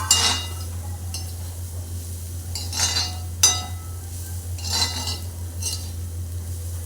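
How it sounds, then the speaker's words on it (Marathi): Roasted kantoli vegetable being stirred and sautéed in a pan, with a spoon scraping and clinking against the metal at irregular intervals over a steady low hum and faint sizzle. "आता याच्यामध्ये भाजलेली काटलं घालूया"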